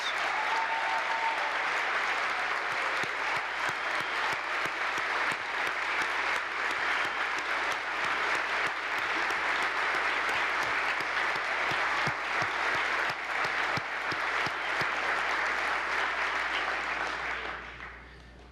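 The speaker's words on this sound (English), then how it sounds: "Let's give them a big round of applause" A large audience gives a long round of applause for the Techno Dragons students and their teacher at a state address, dense continuous clapping that holds steady for nearly twenty seconds before fading out at the close.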